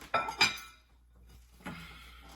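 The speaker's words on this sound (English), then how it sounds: "Dry them dishes." Dishes clink and knock together as they are dried by hand in a small New York City kitchen, a few quick close clatters separated by a quiet pause.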